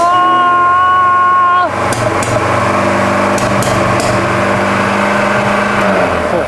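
A Volvo 240 redblock engine with newly installed twin carburetors starts after a short tonal whine, then runs steadily and loudly with a rough, even drone and a few sharp knocks.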